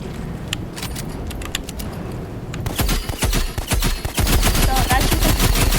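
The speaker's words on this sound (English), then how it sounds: "next up is the handgun" Handgun fire in the video game Rivals: a fast burst of sharp, loud pistol shots builds into dense continuous gunfire over a busy game soundscape.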